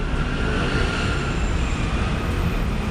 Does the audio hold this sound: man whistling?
no